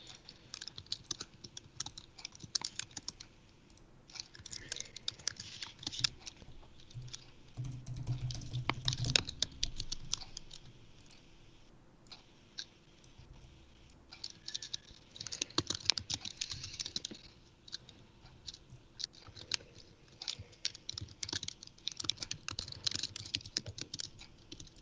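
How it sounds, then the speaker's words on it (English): Typing on a computer keyboard, rapid clusters of quiet key clicks in bursts with short pauses, close but faint, no speech. "I'm going to type this out as maybe shell method"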